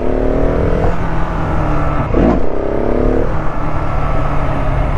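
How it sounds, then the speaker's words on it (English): A Husqvarna 701 Supermoto single-cylinder motorcycle engine runs loud and close with a gruff dirt-bike note, its pitch climbing, dropping briefly, then rising again in a steady rev. "Engine note on the Husky is more dirt bikey"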